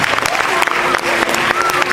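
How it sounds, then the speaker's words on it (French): Audience applauding a school kitchen team at a parents' meeting, a steady two-second burst of mixed hand claps with some voices murmuring through it. "je vous demanderai de les applaudir parce qu'ils sont là et ils donnent un sacré coup de main"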